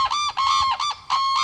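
Cranes call loudly outdoors in three close, harsh, trumpeting honks with short gaps between them, and no voices over the calls.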